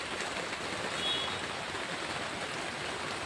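Steady rain falling outdoors, a soft, even hiss with no breaks, faint and distant, with no voices.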